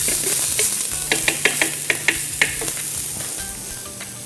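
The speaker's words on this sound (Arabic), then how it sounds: "لان مثل ما انت شايف الحين قاعد يغلي البرتقال" Orange glaze bubbling and sizzling in a pan beside cooking salmon, a steady frying hiss with scattered pops and stirring clicks, heard close and alone.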